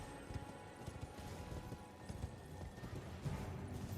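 A rider's horse clip-clops in Elden Ring, crossing a bridge on the Weeping Peninsula with steady, fairly faint hoofbeats over ambient game sound.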